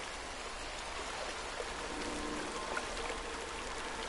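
Flowing water in the Outlast 2 video game, a steady, soft hiss and trickle like a stream or light rain, continuous and fairly faint, with no voices.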